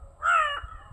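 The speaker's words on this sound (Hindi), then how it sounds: "कौवे आ गए हैं" A single crow caws once, a short harsh call about half a second long, moderately close against quiet outdoor background.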